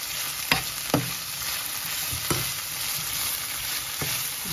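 Red and yellow bell peppers fry in a pan for chicken baby shell pasta, a steady hiss of oil broken by four or five sharp clacks as a spoon strikes the pan while stirring.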